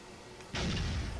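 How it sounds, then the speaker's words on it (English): A heavy explosion booms in the Dead Rising 2 video game, a sudden loud, broadband blast that cuts in after a quiet lead-in and keeps rumbling to the end. "an explosion upon entering"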